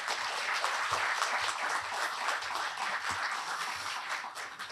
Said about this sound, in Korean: 우리 사무국의 조미라 국장하고 이혜민 간사에게 큰 박수 부탁드립니다